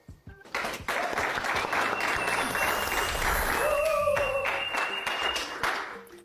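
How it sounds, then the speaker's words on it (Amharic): Audience applause at a judged show, a sustained burst of clapping that rises quickly and holds steady, with a faint tone and a brief voice audible underneath. "ጭብጨባው ስላነሰ ዳኞችን ጭብጨባውን አስደግማለሁ።"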